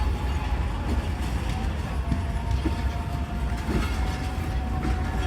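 Passenger train at Lahore Junction on a hot summer day, a steady continuous rumble of rolling stock with faint clatter and a low hum, moderately distant, with no talk.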